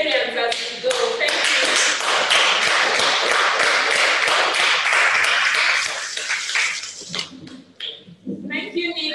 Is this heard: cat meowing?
no